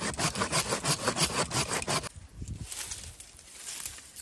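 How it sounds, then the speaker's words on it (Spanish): A handsaw cuts through wood while clearing an overgrown plot on an abandoned farm. Quick rhythmic rasping strokes come close and fairly loud for about two seconds, then fade to quieter scraping. "Serrucho."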